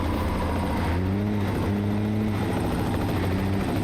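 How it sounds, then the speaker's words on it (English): Helicopter in American Truck Simulator, a steady loud rotor and engine drone with a throbbing hum, close and continuous, no talking over it. "Helicopter."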